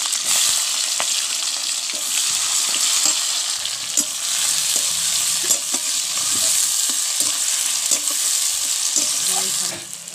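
Chopped onion frying in hot oil with cumin, bay leaf, peppercorns, cardamom and cloves, a steady loud sizzle with scattered stirring scrapes and clicks, no talking.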